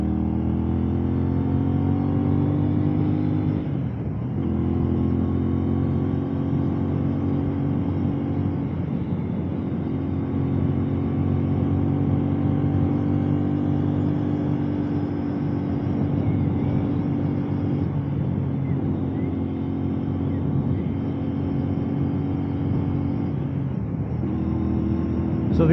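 A CFMOTO 450SS motorcycle rides at steady speed, its engine droning with a constant harmonic hum under rushing wind, loud and close, with brief dips in pitch around gear changes.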